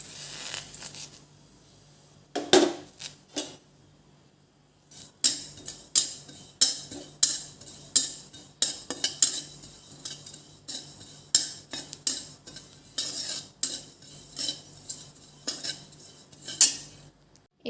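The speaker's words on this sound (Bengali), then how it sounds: "এর মধ্যে এখন আমি কালো জিরেটা ভেজে নেব।" Black cumin seeds fried and stirred in a hot wok, a spatula scraping and clinking against the metal in quick, irregular strokes that repeat throughout, close and clear with no talking.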